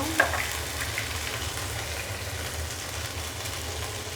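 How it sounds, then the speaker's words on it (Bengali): Onion paste, ginger-garlic paste and ground spices frying in hot oil for an egg korma, a steady close sizzle that holds evenly throughout without a break. "চুলায় তেল গরম করে দিয়ে দেবো একে একে পেঁয়াজ বাটা, আদা রসুন বাটা"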